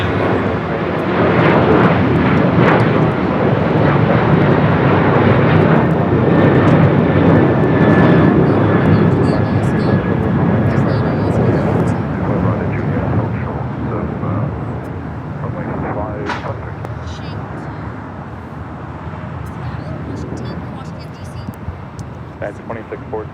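A jet airliner, United 2614 heavy, takes off from runway 25 right at LAX with a loud, sustained engine roar that swells early and slowly fades, under radio chatter and talk.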